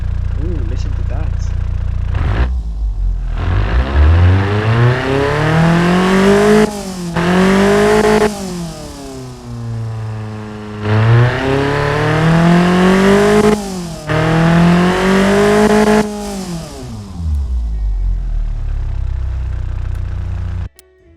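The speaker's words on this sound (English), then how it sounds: "let's fire it up and hear the new, let's hear the induction noise" Ford Zetec SE inline-four engine with an upgraded intake and exhaust, revved repeatedly so its induction noise swells and falls in several long, loud sweeps between idle, close up with no talk.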